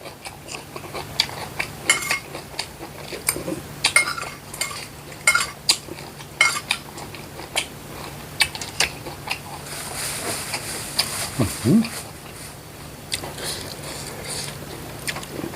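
Small frogs are stir-fried with fragrant herbs in a pan, with a spatula scraping and clinking against the metal in an irregular rhythm over a low, steady sizzle.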